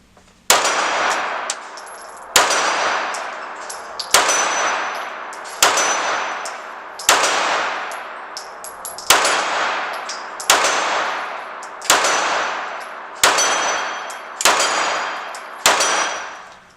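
Ten sharp shots from a Sig Sauer P320 M17 9mm Luger pistol crack out at a steady, unhurried pace on a range, each loud report followed by a short ringing decay before the next.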